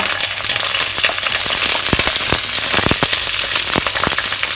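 Red chilies, seeded and cut into pieces, sizzle and crackle steadily in a hot wok with ginger, a loud continuous frying hiss broken by sharp pops, with no talk.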